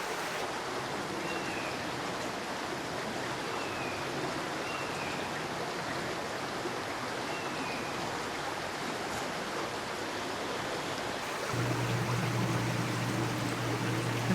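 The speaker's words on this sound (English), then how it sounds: "you can hear the water running behind me" Steady rushing of a stream flowing over rocks in a swamp, a continuous broadband wash close by, with a deeper rumble joining near the end.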